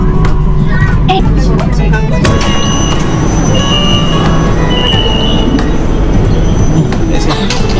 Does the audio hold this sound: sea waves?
no